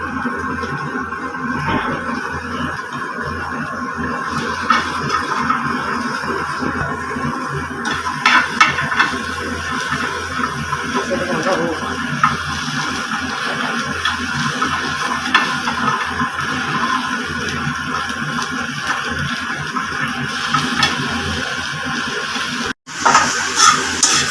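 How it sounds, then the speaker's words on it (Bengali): Onion and garlic frying together in a pan for a dried-fish (chepa shutki) mash, a steady loud sizzle with clinks of utensils throughout and a brief break near the end. "প্রথমে দিয়ে দিব পেঁয়াজ আর রসুন দিয়ে দিব দুটো একসাথে ভাজবো"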